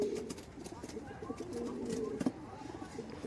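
High-flying teddy pigeons in Murshidabad coo softly in a steady, low murmur, with faint voices nearby.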